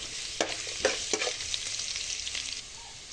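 Chopped garlic and ginger sizzle in hot oil in a pan, a steady crackling hiss broken by a few sharper stirring scrapes, close and moderately loud.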